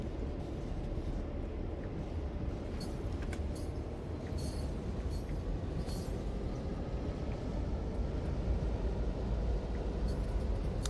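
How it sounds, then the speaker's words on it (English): A Clinchfield Railroad freight train rolls past in Train Sim World 2, a steady, loud low-end rumble of wheels and engines that holds constant throughout, with faint higher clanks scattered on top and no voices. "I think that's our train there on the right."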